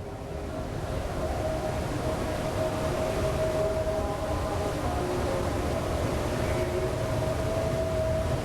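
Air raid sirens in Kuwait City during the 2003 Iraq War wail in a steady tone over a dense, continuous rumble, loud and unbroken throughout.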